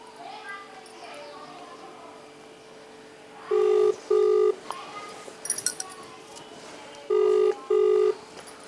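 A telephone rings in two pairs of electronic tones, separated by a pause, over faint background chatter and children's voices.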